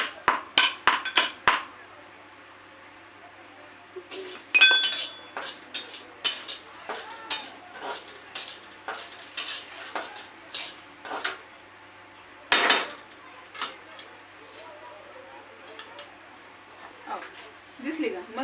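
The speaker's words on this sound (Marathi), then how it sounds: "विलायची बारीक करून घेते" Cardamom being crushed finely with a pestle in a home kitchen: a run of sharp, close knocks and clinks that come in quick bursts and irregular pauses, with grinding scrapes between the strikes and no talk over them.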